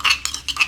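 Spoon scraping and clinking against a pan while butter and ginger are stirred for a crab dish, a few quick close metallic clinks in a brief burst.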